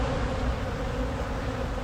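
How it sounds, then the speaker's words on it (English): Italian honey bees hum in an open colony during an early-season hive inspection, a close, steady and dense drone with no pauses and no voices. "And these are Italian bees"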